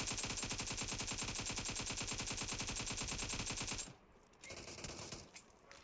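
Rapid automatic gunfire in the battle royale game BGMI, a loud sustained burst of evenly spaced shots for about four seconds, then quieter game ambience with a few scattered noises.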